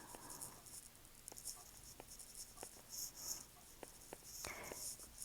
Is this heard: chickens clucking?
no